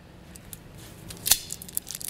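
A piece of clear tape is pulled and torn off the roll during a truck suspension install, a short close rip with a sharp tearing snap in the middle, no talk.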